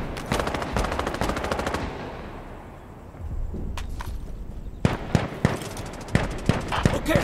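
Bursts of automatic gunfire and single sharp shots in the video game Insurgency Sandstorm, with a dense rapid volley at the start, a quieter gap, then several loud separate cracks toward the end.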